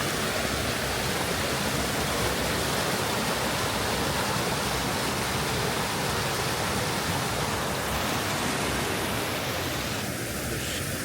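Fast-flowing stream swollen after rain at Fox Hagg Nature Reserve, a constant close rushing roar that holds steady throughout with no voices.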